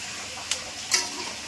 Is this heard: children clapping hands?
no